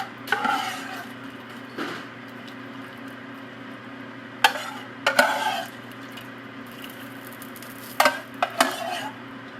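Veggie soup ladled from a pot into a bowl, a few soft wet scoops with light clinks of utensil against cookware, sparse and close over a quiet room hum; no voices.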